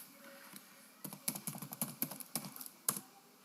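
Computer keyboard typing in a quiet room, a quick flurry of several close key presses for a Ctrl F search after a second of near silence.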